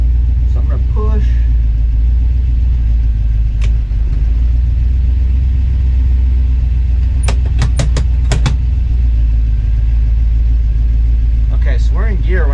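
A parked Winnebago motorhome's engine idles in gear with a steady low rumble throughout, while a few clicks and short voices pop up over it.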